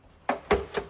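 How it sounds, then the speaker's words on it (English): A paper guillotine slices through card stock for a handmade flip card, giving three short, faint clicking cuts in quick succession, each about a quarter second apart, with no talking. "I'm going to use the guillotine to just cut that away"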